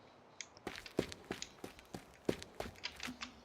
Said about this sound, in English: So you can hear your footsteps echoing and all that.